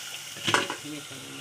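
Soaked moong beans hit a hot tempering pan with a sudden loud sizzle burst that quickly settles into a softer, steady frying crackle.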